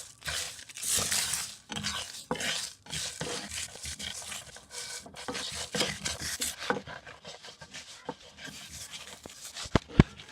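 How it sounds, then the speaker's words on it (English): Whole spice seeds for homemade garam masala are stirred in a pan over a low flame, giving a steady dry scraping and rustling with uneven strokes, close and fairly loud, alone with no speech. "Put it on a low flame and continue stirring so it doesn't burn"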